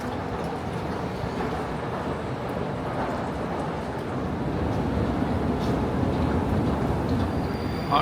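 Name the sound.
Moscow metro train at Butovskaya station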